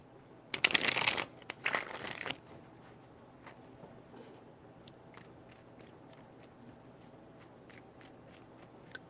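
Tarot cards being shuffled up close, two loud bursts of riffling in the first few seconds, followed by a string of faint, short card taps and flicks.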